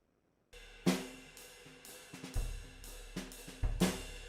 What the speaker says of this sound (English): If I played back all of these drum channels right now, they would sound like this